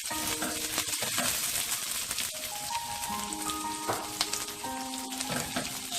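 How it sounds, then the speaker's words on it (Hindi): Capsicum and onion fry in a pan for a Kung Pao chicken dish, giving a continuous close sizzle with crackling spatter and occasional stirring scrapes throughout. "शिमला को भी मैं ज़रा सा फ्राई कर लूँगी।"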